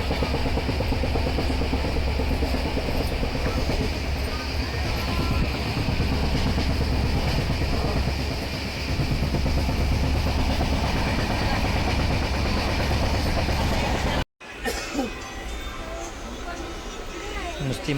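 A passenger train runs along the rails on a trip to Trimbakeshwar, giving a steady, loud rumble with rhythmic rail clatter throughout and a brief cut near the end, with voices mixed in.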